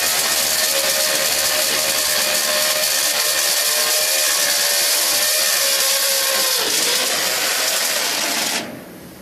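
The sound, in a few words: drilling into a post-tensioned bridge duct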